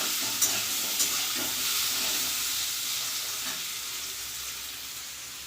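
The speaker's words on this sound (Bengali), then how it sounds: "তেলে দিয়ে দিয়েছি সর্ষে ফোড়ন এবার আমি জলপাইগুলো দিয়ে দেবো" Boiled, mashed olives frying in hot oil with mustard seeds, a steady broadband sizzle with a couple of sharp pops early on, close and continuous, no voices.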